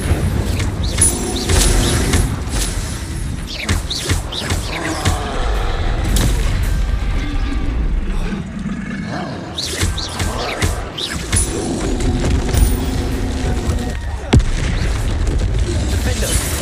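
Confringo and Incendio spells fire in Hogwarts Legacy, each bursting out as a deep, booming blast with crackling fire. The explosions come in quick, repeated bursts amid constant combat noise.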